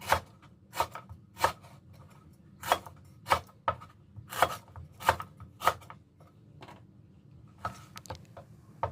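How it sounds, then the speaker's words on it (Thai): Lemongrass stalks are chopped into chunks with a knife on a cutting board, a run of sharp, close strikes in uneven bursts, some coming quickly in pairs, with short pauses between the groups. "อีกส่วนหนึ่งก็หั่นเป็นท่อนๆ"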